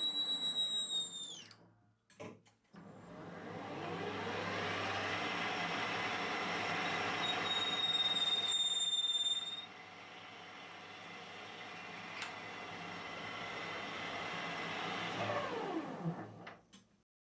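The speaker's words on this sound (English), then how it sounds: "Brass, however, does not generate much torque when it's being threaded like this." Brass being power-threaded with a die on a lathe: a steady motor drone with a whining hum holds for about fifteen seconds, starting and stopping abruptly, loud and close with no talk.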